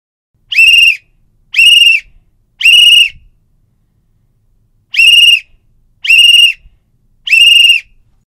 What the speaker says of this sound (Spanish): Cuando sea el momento de evacuar, escucharás el silbato de esta forma.